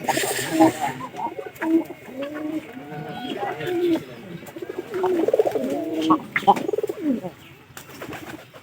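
Pigeon chicks cooing and squeaking continuously nearby, a busy mix of soft calls and wing flutters, heard alongside a person talking.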